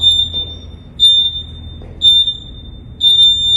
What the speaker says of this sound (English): You'll hear a 3-second countdown on a beep.